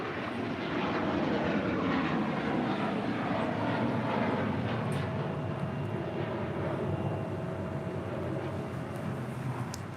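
An airliner taking off from a runway at LAX, a loud continuous engine roar with broad rumble that builds and holds steady across the whole stretch, with no voices.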